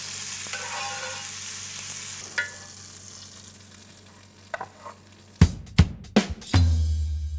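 A bone-in rib steak sizzles steadily in a pan, then turns into sharp, loud bursts of spattering and crackling as fat is spooned over it and the meat is flipped, with no voices.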